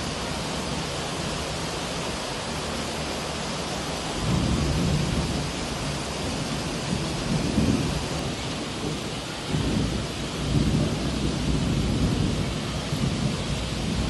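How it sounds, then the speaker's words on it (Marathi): Heavy rain pours in a constant dense roar in Uran, flooding roads and submerging vehicles, with low rolls of thunder rumbling up twice in the background. "पाऊस इतका मुसळधार बरसतोय की रस्त्यावर आता पाणी साचलंय"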